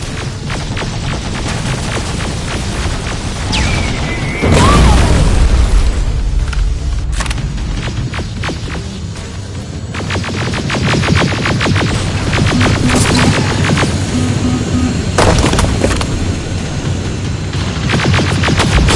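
Grenade explosions in the game Terminator: Resistance, a heavy boom around the middle followed by continued booming blasts and crackling rapid gunfire in a loud, dense battle din.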